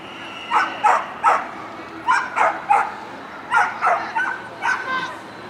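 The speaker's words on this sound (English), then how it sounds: "Somebody's dog is barking." A dog barks repeatedly in short bursts and yips, moderately distant, over a quiet night backdrop at a riverside pier with a city skyline.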